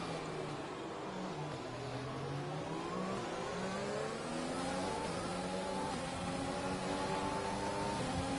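A Ferrari engine revs continuously at a moderate distance, its pitch rising and falling in a sweeping, sustained drone with no talk over it.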